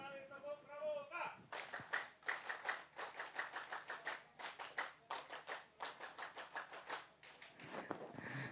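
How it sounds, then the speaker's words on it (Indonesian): Indonesian scout-style rhythmic clapping from a group, patterned bursts of fast claps with short pauses, following a brief spoken or sung lead-in, fairly distant and moderate in volume. "kita akan menyambut pagi ini dengan penuh ceria dengan sebuah tepukan pramuka"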